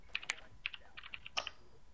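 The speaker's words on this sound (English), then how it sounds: "I'm still typing mine, by the way." Someone types on a computer keyboard during an online quiz game, with quick, irregular bursts of close, crisp key clicks and short pauses between them.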